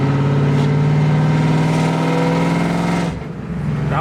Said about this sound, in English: the car is way louder with dumps